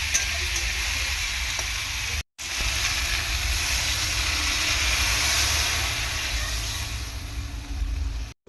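Water hisses and sizzles into a hot pan of frying ridge gourd and potato for a fish curry, a loud, steady seething that cuts out briefly and then resumes.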